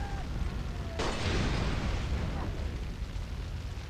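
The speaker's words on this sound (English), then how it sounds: "They're lobbing Molotov cocktails at me like I'm a shish kebab or something." Molotov cocktails thrown by enemies burst into flame in the video game Far Cry 3, a sudden loud whooshing blast followed by a roaring burn that fades over a few seconds.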